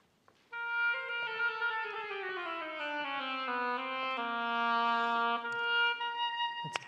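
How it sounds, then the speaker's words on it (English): An oboe with its double reed fitted plays a smooth, rich solo melody that steps downward and then climbs again in sustained, connected notes, clear and close with nothing else sounding. "Now, when Tamara puts her double reed into her oboe"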